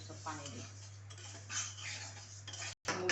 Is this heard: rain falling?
no